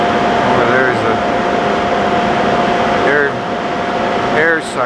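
Dust extraction vacuum for cast iron dust running in a large machine shop at a steel works, a steady broadband rushing roar with a faint tonal whine throughout, while people talk over it.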